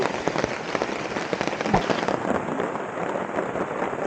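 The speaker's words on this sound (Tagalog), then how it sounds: "Umuulan na!" Steady rain pattering densely on a surface at a riverside campsite during a typhoon, close and fairly loud, with occasional heavier drops and no talking.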